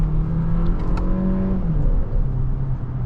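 A 2026 Kia K4 GT-Line turbo hatchback accelerates, its engine note rising and shifting through gears as a steady close interior drone, alone with no talk.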